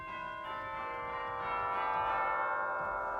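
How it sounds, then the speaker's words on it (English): Real cathedral chimes sound in a recording studio, a rich resonant bell tone struck and ringing out with long sustained overtones. "You've got real cathedral chimes."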